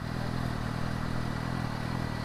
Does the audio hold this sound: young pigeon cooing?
no